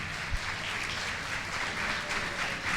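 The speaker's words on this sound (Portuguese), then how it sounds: "Eu quero palmas para o professor." Audience applauding at the opening of an international children's and youth literature congress, a steady dense wash of clapping for a professor, sustained and moderately near throughout with no talk.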